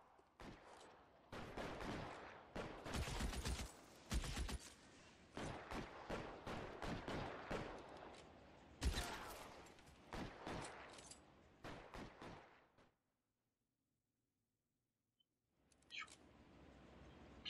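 Rapid volleys of gunfire in the video game LA Noire during a police shootout, dense loud bursts for about twelve seconds, then a brief silence before one more short volley.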